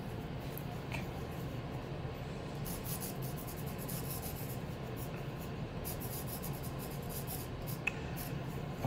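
A sharpened tool scratches letters through a thin layer of black wash on clay, a steady close-up rasping and scraping with small strokes, heard alone without talk.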